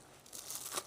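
A crunchy bread roll served with pulled pork and beef gravy is bitten into, a brief, quiet crackle and crunch up close.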